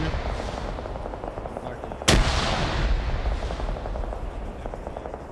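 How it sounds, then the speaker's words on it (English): Rapid bursts of gunfire crackle continuously in a military video game battle, broken by one loud, sharp grenade explosion midway, with scattered shots and blasts continuing afterward. "You got grenades being thrown in."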